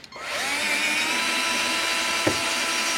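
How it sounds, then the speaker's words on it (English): A cordless drill drives an Allen head screw into the base of an Osaki OS 4000 massage chair, whining up to a steady close motor drone with a brief click partway through. "I typically use a cordless drill."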